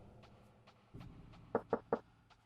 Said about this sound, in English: There's no answer to your knocking.